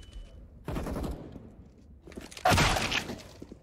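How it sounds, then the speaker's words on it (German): Gunfire from a Five-SeveN pistol in Counter-Strike on the Cache map at an IEM Katowice 2019 esports match, heard as two loud, sharp bursts with rattling echo, about two seconds apart. "Schöner Schuss von Apex auf jeden Fall."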